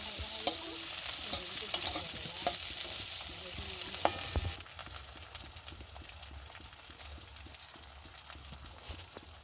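Ingredients fry in a pan for a spiced pulao, a steady close sizzle with repeated stirring scrapes and taps, louder at first and then settling into a softer, even hiss.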